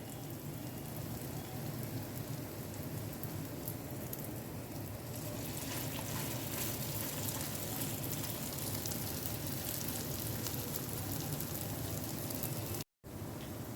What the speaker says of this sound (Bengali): এবার কিন্তু মিডিয়াম টু লো ফ্লেমে এগুলোকে আমাদের ভেজে নিতে হবে